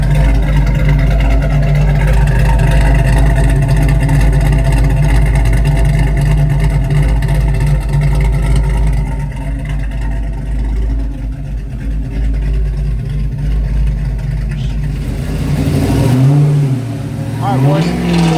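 A tuned Chevelle car engine idles and revs loudly and steadily up close, with a sharp rising rev near the end.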